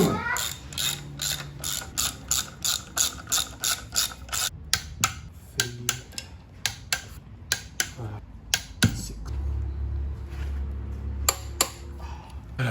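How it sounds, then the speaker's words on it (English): A ratchet wrench clicks in quick bursts while torquing bolts on an engine block during assembly, each pull a fast row of sharp metallic ticks with short pauses between, near and clear. "And now I can torque these down."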